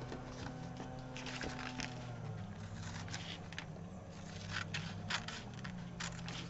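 Scissors snip through a small piece of fusible fabric in a quiet room: a string of faint, crisp cuts and crackly rustles over a low background hum, close and soft.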